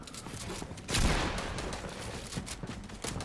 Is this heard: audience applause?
no